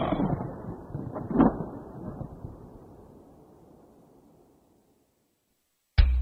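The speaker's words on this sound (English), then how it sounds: "Thunder." Thunder rolls loud and near, with a sharp crack early on, then rumbles away into silence for about a second before an abrupt loud burst at the end.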